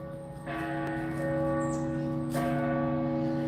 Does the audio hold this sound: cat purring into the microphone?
no